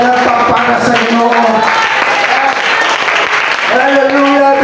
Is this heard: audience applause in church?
yes